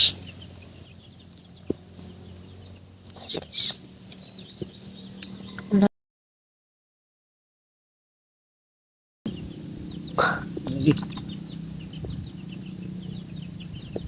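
Rooster cockfight with chickens clucking and crowing in bursts, chirpy calls and scuffling sounds under a low background hum, broken by a few seconds of silence midway.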